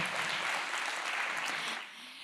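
Steady, dense round of applause from an audience at a county panel discussion on Title IX, a continuous wash of many hands clapping at a moderate distance.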